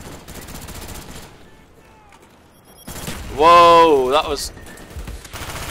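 Bursts of rapid automatic gunfire in the Black Ops 2 video game crackle in two stretches around a short lull, loud and close, with a man exclaiming over the second burst.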